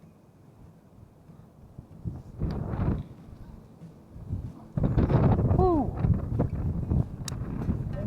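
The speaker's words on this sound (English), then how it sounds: "I don't know if you guys can see how windy this water is." Gusty wind blows across open water at a fishing spot, buffeting the microphone in loud rumbling bursts that rise and fall, with a person's voice calling out briefly.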